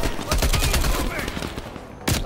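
Automatic gunfire in the video game Call of Duty: Cold War, a fast rattling string of close, loud shots followed by a brief pause and another burst.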